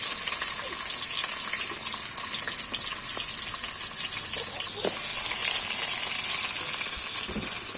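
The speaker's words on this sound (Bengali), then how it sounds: "গোটা জিরে ফোড়ন দিলাম, শুকনো লঙ্কা দিলাম, পেঁয়াজ দিলাম" Whole cumin, dried chilli and onion fry in hot oil for a cauliflower and potato curry, giving a continuous loud hiss that swells slightly midway, with occasional clicks from the pan.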